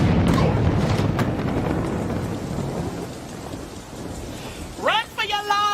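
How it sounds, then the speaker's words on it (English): Steady heavy rain pours with low rumbling thunder rolling through, broad and enveloping, before a few short voice-like shouts break in near the end. "It's drizzle."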